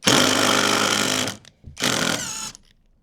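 Power drill boring through thin sheet metal on a bus being converted to a camper, two loud whining bursts of about a second and a half each with a short pause between, alone and close.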